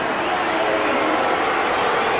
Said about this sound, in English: it will bring a rousing reception from the Eels crowd